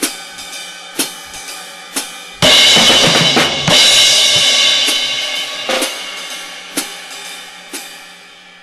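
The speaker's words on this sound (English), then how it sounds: "Figure 30 is rhythm pattern number 5, embellished." Drum kit playing an embellished beat, with steady sharp hits roughly once a second and a burst of crashing cymbals and fills in the middle, loud and close with no voices.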